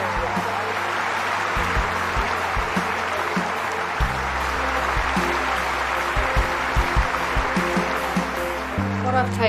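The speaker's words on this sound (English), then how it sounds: "Let's give them both a round of applause, our winners of Friends for Life 2013, Owen and Hatchie." Audience applause for award winners at a ceremony, a continuous dense clapping wash lasting throughout, with low tonal music sounding underneath.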